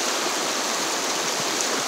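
A woodland creek flows steadily, a continuous broadband rush of water that stays close and even throughout, with no voices over it.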